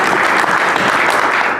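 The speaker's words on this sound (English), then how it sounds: "Can we give ourselves a round of applause" A brief, dense round of applause fills the room at a South African boxing awards media briefing, steady and loud throughout.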